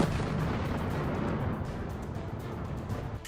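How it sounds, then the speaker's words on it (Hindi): Explosions and rumbling blasts from ballistic missile attacks on Kyiv, a loud continuous roar of detonations and booming that slowly fades over a few seconds. "कीव में बैलिस्टिक मिसाइलों से ताबड़तोड़ हमले हो रहे हैं।"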